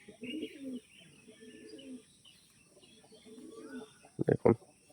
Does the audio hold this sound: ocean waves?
no